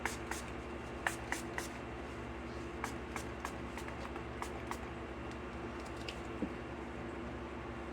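Short hissing bursts of a spray go off over a nearly full container of resin in quick irregular clusters, then spaced out, fairly quiet over a low background hum.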